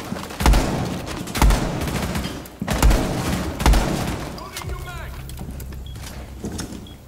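Gunfire in the Rainbow Six Siege video game, a Hereford Base team deathmatch: several loud, punchy bursts of shots in quick clusters, with quieter game rumble between them and voices talking over the action.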